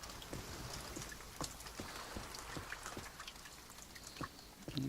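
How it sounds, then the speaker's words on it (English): Rain in the video game The Forest falls as a soft, steady hiss with scattered drop taps and patters, fairly quiet and heard alone without talk. "Seems like the rain has passed."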